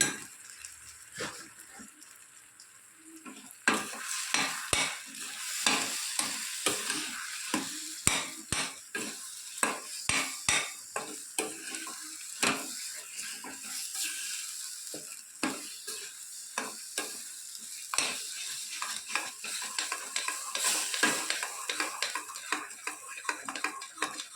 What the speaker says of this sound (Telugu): దీన్ని మాడకుండా జాగ్రత్తగా తిప్పుకోవాలండి పప్పుని.